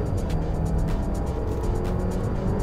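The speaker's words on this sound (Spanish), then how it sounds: "Ahora voy a comprobar la aceleración" An Audi Q5 in Dynamic mode pulls hard at full throttle, its turbocharged engine roaring steadily and loudly from the cabin for a few seconds with no talk over it.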